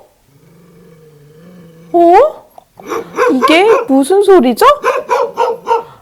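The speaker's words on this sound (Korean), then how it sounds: "무서운 개가 짖는 소리인 것 같아요." A big, scary dog barks in a rapid series of loud, close barks with yelping edges, following a short stretch of someone speaking.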